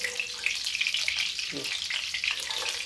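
Okra fries in a small amount of hot oil with steady loud sizzling, while a ladle scoops and pours oil over it with a brief stirring scrape midway.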